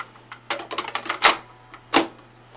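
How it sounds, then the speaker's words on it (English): A cassette tape is pushed into a tape player, giving a few close plastic clicks and rattles and then two sharper clacks as the door or mechanism latches, over a faint steady hum. "I'm going to put this in the tape player."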